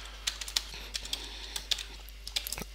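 Quiet, irregular tapping of computer keyboard keys as code is typed, a dozen or so light clicks at uneven intervals over a faint steady hum, with no voices.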